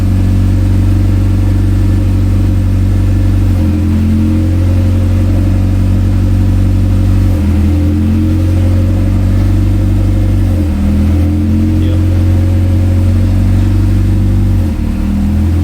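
Engine of a Honda Civic with a swapped B16B Type R, revving steadily in a loud, continuous drone with a few dips and surges as the clutch is let out and the wheels spin, close by with no talk.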